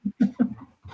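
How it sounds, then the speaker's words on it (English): A dog barks several times in quick succession in the background of a home setting during a live-streamed town meeting, short gruff yips separated by brief gaps, with no talk over them. "I apologize if you hear my dog barking in the background"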